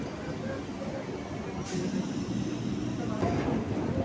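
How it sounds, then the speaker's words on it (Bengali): A Circular Rail train pulls into Remount Road, an elevated station in Kolkata, with a steady rumbling roll and a couple of faint brake or rail squeals. Voices murmur faintly under the noise. "তাহলে বন্ধুরা ট্রেন চলে এলো রিমাউন্ট রোড স্টেশনে"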